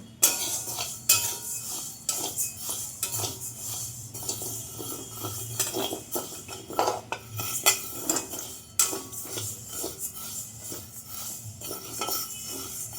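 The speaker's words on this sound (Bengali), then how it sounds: "দিয়ে দিচ্ছি সাবু, এবার সাবুকে একটু ভাজে নিব।" Sago pearls (sabudana) roasted and stirred in a pan: repeated metallic scrapes and clinks of a utensil against the pan in an irregular rhythm, close and fairly loud, with no talking.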